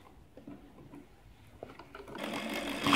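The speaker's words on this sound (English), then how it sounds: "I'll start sewing from here." A sewing machine stitches a trumpet skirt, starting with a few soft taps and clicks, then settling into a steady, close whirring run that grows louder toward the end.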